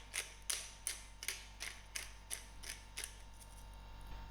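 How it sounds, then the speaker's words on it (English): A pepper grinder cranks a generous grind of pepper over a bowl of vegetables, giving a steady series of about ten crisp, evenly spaced clicking crunches, close and fairly quiet, with no voices. "I'm going to give a generous grind of pepper"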